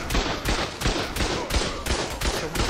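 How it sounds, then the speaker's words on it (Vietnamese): Rapid gunfire in the video game ARK: The Center, a loud steady string of sharp shots fired in quick rhythmic succession, close and continuous throughout. "Súng, súng, súng."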